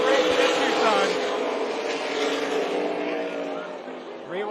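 Race cars run a double-file race at Tucson Speedway, multiple engines droning and rising in pitch together at close range while a commentator talks over them.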